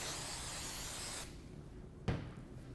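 Hairspray hisses onto hair being styled into a half-up side pony, one steady spray lasting about a second, then a brief soft knock, close and quiet.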